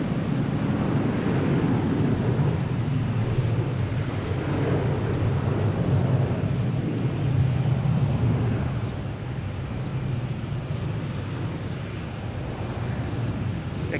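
An American Airlines jet near Boston Logan Airport, heard from Castle Island, makes a loud, steady, broadband engine roar. The roar holds through the whole span and eases off slightly toward the end.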